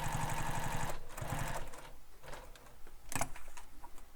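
A sewing machine back stitching through a crossbody bag lining, giving a fast rhythmic mechanical chatter in short bursts with brief pauses and small handling clicks between runs.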